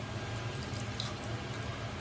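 Water runs and splashes steadily while a mixer jar is rinsed in a home kitchen during cooking, a continuous close trickle with faint drips and no talking.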